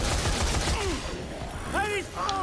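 Shotgun blasts in the video game Dead Rising 3 crack out at the start, a short burst of loud reports, followed by voices talking over the game sound.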